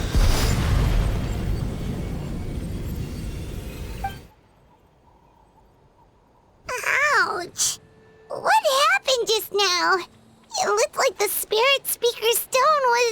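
A stone explodes in the video game Genshin Impact, a loud broadband roar for about four seconds that cuts to near silence, followed by character voices speaking.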